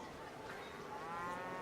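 Cattle lowing in the strategy video game Civilization V, a faint, steady game sound effect with a drawn-out moo swelling toward the end, alone without talk.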